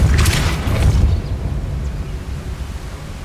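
A spell being cast in the game Hogwarts Legacy, a loud deep boom with a rushing burst in the first second, then fading into a rumbling tail.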